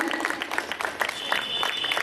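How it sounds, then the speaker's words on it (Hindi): Audience applause welcoming guests at a Brahma Kumaris self-empowerment gathering in Bunkar Colony, Delhi: a steady patter of many hands clapping at moderate level, with a faint sustained tone running beneath it. "कृपया जोरदार तालियां बजा करके आए हुए अतिथि का सम्मान करें"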